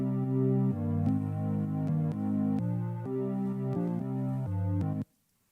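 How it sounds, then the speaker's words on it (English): Synth organ track from an Ableton Live remake of a song, playing sustained chords that change every second or so. It is heard alone and stops abruptly near the end. "We have organ playing in the beginning throughout the verse"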